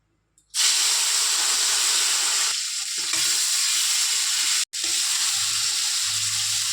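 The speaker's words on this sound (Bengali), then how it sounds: "তেলটা গরম হয়ে গেছে, এবার মাছ দিয়ে দেবো।" Fish sizzling in hot oil in a kadai, a loud, steady hiss that starts abruptly as the fish goes in, with a brief stir and a short break before the frying resumes.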